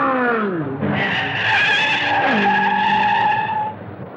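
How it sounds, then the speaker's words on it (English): A race car spinning in the short chute during the 1972 Indy 500, tires squealing loudly in a sustained skid with falling and rising engine tones, close and prominent for about four seconds before easing off. "There's a spin in the short chute,"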